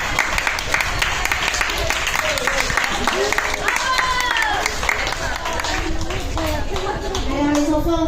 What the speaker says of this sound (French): Attends, on applaudit.